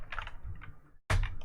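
Quick clattering keystrokes on a computer keyboard, a rapid burst of clicks, a short pause, then another sharp flurry of typing, close and clear with no voices.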